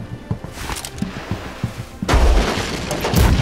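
Cannons fire in the naval video game Blackwake, with a run of quick thumps and then a heavy, sustained booming roar that follows close up and loud.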